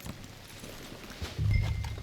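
Soft horse hooves clip-clopping in short, muffled bursts in Red Dead Redemption 2, then a heavier stretch of hoof thuds toward the end; no talking.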